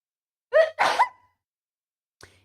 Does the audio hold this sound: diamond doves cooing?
no